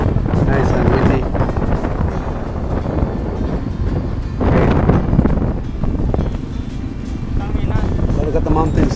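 Steady wind buffets the microphone outdoors on a barge travelling from Mukas Port to Ozamiz City, with a low engine rumble and occasional voices underneath.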